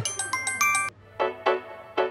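A phone ringtone plays a rapid series of bright electronic tones, then several louder chime notes, close and clear with no talking.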